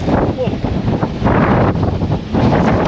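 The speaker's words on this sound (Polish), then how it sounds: "No dobra, wieje. Przepraszam za dźwięk," Strong wind buffets the microphone in loud rumbling gusts on a fishing boat out after perch, with water and boat noise underneath and a voice faintly mixed in.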